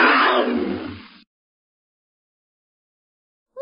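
A tiger gives one loud, rough, close roar lasting about a second that breaks off abruptly into silence.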